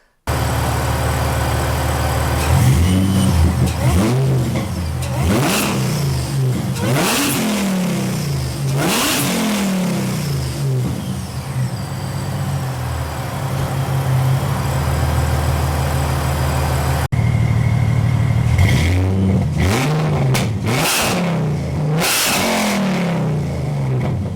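A Mercedes SLK32 AMG fitted with a Hellcat throttle body is revved repeatedly in a garage, with loud, sharp throttle blips rising and falling over a steady idle at close range.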